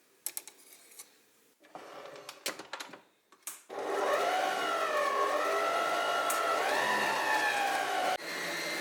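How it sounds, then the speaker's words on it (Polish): Electric mixer whipping seven egg whites for a Polish cake, preceded by a few sharp clicks and clatters, then a steady loud motor whir with wavering pitch that drops briefly near the end. "Na początku ubijam 7 białek."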